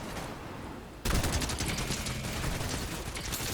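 A flare gun fired in Fortnite, heard as a sudden loud burst of crackling, rapid gunfire-like noise that cuts in after a quieter stretch and holds dense and continuous to the end.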